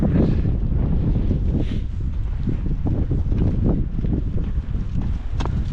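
Steady gusting wind buffeting the microphone outdoors, a continuous loud rumbling roar with fluctuating gusts throughout and no clear voices.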